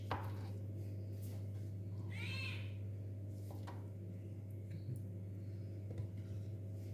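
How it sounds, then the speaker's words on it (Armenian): A hungry cat gives a single clear meow in a kitchen, faint against a steady low hum, with occasional light clinks of dishes around it. "մեր փիսիկը էլ չի համբերում, սոված է"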